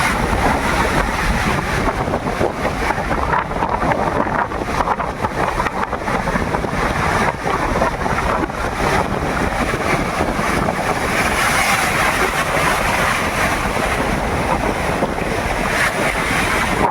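Monsoon sea at Harihareshwar surges in a continuous loud roar of crashing waves, heavy wind buffeting the microphone throughout with no break.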